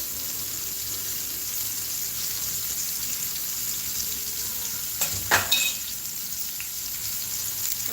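Turmeric stirred into hot oil: a steady, fairly loud sizzling hiss runs throughout, broken midway by a brief clatter of a spoon against the pan.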